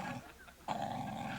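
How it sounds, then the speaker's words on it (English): A dog growls low and rumbling in short bursts, pausing briefly before a louder, sustained growl. "A very, very good dog."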